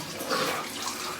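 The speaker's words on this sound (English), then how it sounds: "Have a splash about with some water." Cold water splashes briefly close by, a short burst of watery sloshing heard on its own with no talk.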